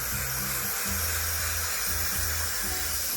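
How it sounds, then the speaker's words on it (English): Aerosol spray can hissing onto the side panelling of a Birchwood 22 boat, a steady close broadband hiss under a low intermittent mechanical buzz. "Give it a spray"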